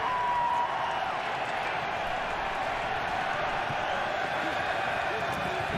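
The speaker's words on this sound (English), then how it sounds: "Good, loud crowd here in Arlington." Steady, loud roar of a football stadium crowd in Arlington during an XFL game, a dense wash of voices and noise that holds evenly from start to finish.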